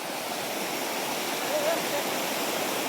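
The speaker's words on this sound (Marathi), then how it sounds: "छोटासा वॉटरफॉल आहे" A small waterfall at Chandranagar pours in a steady, dense rush of falling water, close and constant throughout, with no break.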